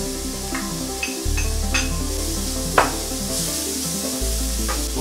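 Onion, ginger and garlic paste sizzle in hot oil in a heated pan, a close, steady crackle broken by clinks and scrapes of stirring, with no talking.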